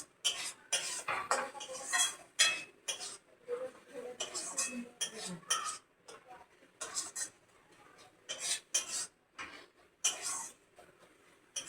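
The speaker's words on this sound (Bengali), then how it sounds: "একটু বেশি করে একটু কষে নিচ্ছি" A sesame curry is stirred and sautéed in a pan, with repeated close scraping and clinking of a spatula against metal in irregular bursts. A faint frying hiss sits underneath, and there is no talk.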